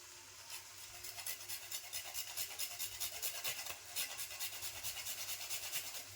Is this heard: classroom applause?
no